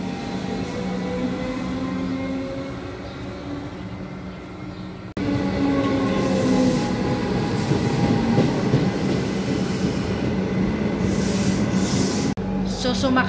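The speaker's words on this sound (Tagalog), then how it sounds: "So sumakay na nga kami ng train." A crowded commuter train rides through Australia with a steady, loud rumble and rattling carriage noise. An abrupt shift partway through makes it louder and rougher, and faint voices murmur under the din.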